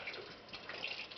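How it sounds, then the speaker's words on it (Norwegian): A thin stream of borehole water trickles into a wooden hot tub as it fills, a faint, steady splashing and bubbling close by with no one talking. "Og derfor så kan jeg ikke la det renne så mye vann om gangen."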